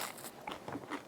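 Teeth bite into crispy smoked pork-skin chicharrones, giving a few close, quiet crunches and crackles in quick succession.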